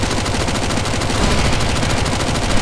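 Sustained rapid gunfire from several weapons in the CS:GO zombie escape mode, aimed at a boss, a loud dense automatic barrage that never lets up.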